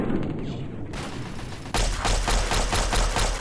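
Rapid gunfire in the video game Fallout 3, a burst of loud, close shots firing in quick succession with sharp repeated cracks over a dense background of game sound.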